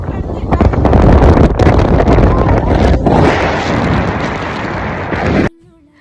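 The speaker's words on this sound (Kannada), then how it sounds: "ಗಾಳಿ ಯಾವ ರೇಂಜಿಗೆ ಬೀಸ್ತಿದೆ ಅಂತ ಸೌಂಡ್ ನೀವೇ ಕೇಳಿಸ್ಕೊಳ್ಳಿ" Strong wind blows hard across Mullayanagiri hill, buffeting the microphone in a loud, roaring rush that rises and falls for about five seconds before cutting off abruptly into near silence.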